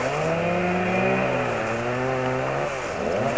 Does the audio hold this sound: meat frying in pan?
no